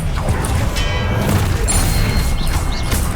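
Magical combat in Hogwarts Legacy as the Expelliarmus disarming spell is cast, a loud dense burst of crashing booms and whooshing effects with high shimmering tones layered on top, sustained throughout.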